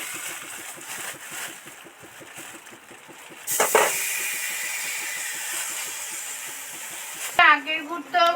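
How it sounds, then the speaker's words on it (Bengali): Sugarcane jaggery hits a hot wok and sets off a sudden loud hiss and sizzle that holds steady for several seconds, followed by a few scraping clinks, with some quieter handling noise before it. "বন্ধুরা কড়া তো গরম হয়ে গেছে, এবার আখের গুড়টা ওর মধ্যে ঢেলে দেব।"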